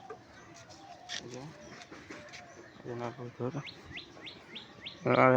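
Pet pigeons, a flying breed, cooing and chirping close by alongside faint wing-like flutters, with a louder burst of bird calls at the end.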